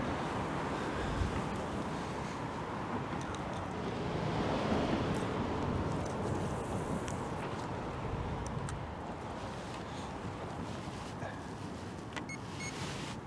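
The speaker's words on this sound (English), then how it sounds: "It's really windy at the moment" Steady outdoor wind on the bank of the River Trent buffeting the microphone, a constant broad rush with slight swells in strength and no voices.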